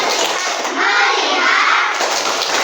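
A class of primary school children in Indonesia performs a rhythmic clapping chant, with hand claps and young voices chanting together in a bright, busy burst close by.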